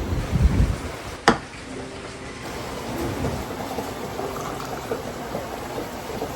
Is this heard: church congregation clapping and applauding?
no